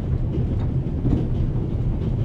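Train sounds from the video game The Raven: a steady low rumble with a faint rhythmic clatter, as if heard from inside a carriage, continuous and fairly loud with no talking.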